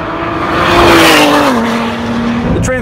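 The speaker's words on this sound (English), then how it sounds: "It may not be a V8, but it sounds a lot better than a V6 that shares the same block from the Ford F-150." A 2017 Ford GT's twin-turbo V6, which shares its block with the Ford F-150 V6, pulls loudly and steadily while driving, its engine note rising and then easing before a brief change near the end.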